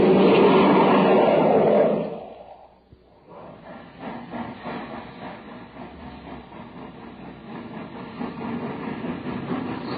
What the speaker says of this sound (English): That was the Terra Express train trying to get up speed on ordinary fuel.